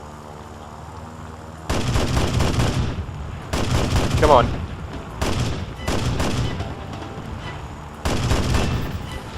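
Bursts of cannon and machine gun fire come from a high-tier aircraft during a War Thunder air battle. Several loud, rapid volleys are separated by short pauses, and a brief spoken remark comes in between them.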